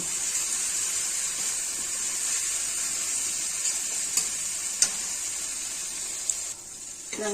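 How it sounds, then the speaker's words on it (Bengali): Spice paste (masala) fries in oil for a vegetarian potato and okra curry, a steady close sizzle with occasional spoon scrapes as it is stirred, running throughout with no talk. "এখন আস্তে আস্তে মশলাটাকে খুব ভালো করে ভেজে নেব।"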